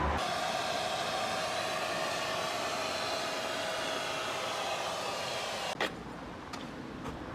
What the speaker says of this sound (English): So I've vacuumed down all areas, revealing stains